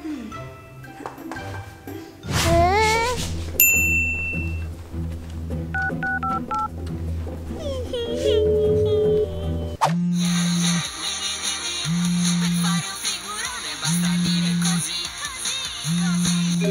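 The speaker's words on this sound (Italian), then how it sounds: "Ma guarda che è il tuo che sta squillando" Indoors during a Christmas-tree mishap, a mobile phone rings out with an electronic melodic ringtone, starting with a jumble of tones, then settling into a repeating pattern of bright beeps and pulsing notes, loud and close.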